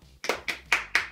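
Several loud claps from a studio audience at a Danish talk show, four sharp bursts in a steady rhythm, close and alone without talk.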